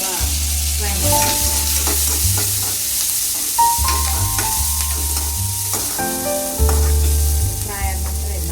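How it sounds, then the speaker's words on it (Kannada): Crushed garlic and onion frying in a pan, a steady close sizzle with light stirring scrapes throughout and a low hum beneath, no voices. "ಆಮೇಲೆ ಇದು ಕಟ್ ಜಜ್ಜಿಟ್ಕೊಂಡಿದ್ದ ಇರೋದು ಬೆಳ್ಳುಳ್ಳಿ, ಈರುಳ್ಳಿ ಸ್ವಲ್ಪ ಫ್ರೈ ಮಾಡಿ."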